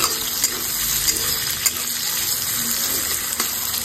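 Onions frying in oil in a pan, giving a steady, loud, hissing sizzle throughout with a few faint clinks on top and no voices.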